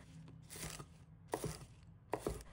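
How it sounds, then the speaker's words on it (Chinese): A knife chops two spring onions into short lengths on a cutting board, sharp close knocks coming singly and in quick pairs with short gaps between. "2根小葱，把它切成段"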